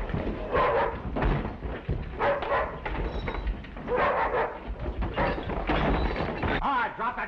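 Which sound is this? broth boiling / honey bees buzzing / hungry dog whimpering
hungry dog whimpering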